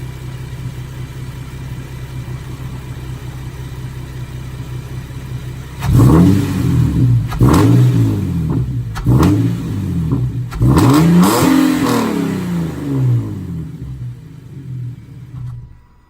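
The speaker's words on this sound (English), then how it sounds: "try to record stock intake sounds, but my exhaust might be too loud" A Nissan 370Z with stock intake and loud exhaust idles with a low steady drone, then is revved hard several times in quick succession: loud, close bursts of rising and falling engine roar, settling back toward idle.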